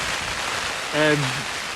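Steady heavy rain drums on a tent during a wild camping storm with 50mph wind, a dense, even hiss, with a brief voice-like sound rising over it midway.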